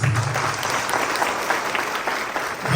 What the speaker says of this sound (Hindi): यहां तो ताली बजनी चाहिए।